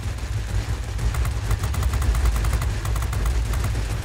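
A warplane in a video game fires its 20mm cannons and machine guns together, a rapid continuous rattle of shots over a heavy low engine drone, loud and close, no talk.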